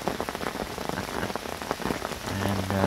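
Heavy rain patters densely on a nearby surface, likely fishing gear or shelter at a carp-fishing spot, a steady loud hiss of drops with a low tone entering near the end.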